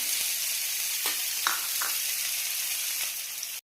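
Sliced onions fry in hot oil with a steady, close crackling sizzle and a few brief stirring scrapes, continuous until an abrupt stop.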